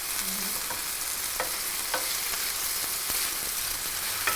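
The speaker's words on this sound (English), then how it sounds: "I've got the garlic going in a little bit, not quite there yet" Garlic frying in a pan for a chicken and vegetable stir fry, with a constant close hiss and crackle and a few sharp spatula clicks against the pan, no talking.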